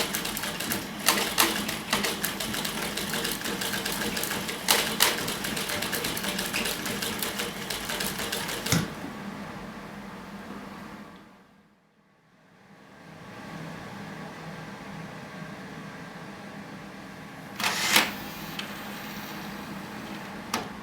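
A printer head moves randomly back and forth in an art installation, whirring and clattering in bursts, with sharp clicks and mechanical buzzing, fading to near silence midway before resuming with a few more clunks.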